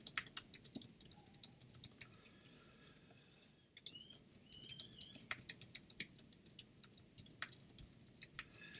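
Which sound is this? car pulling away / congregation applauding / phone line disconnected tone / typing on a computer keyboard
typing on a computer keyboard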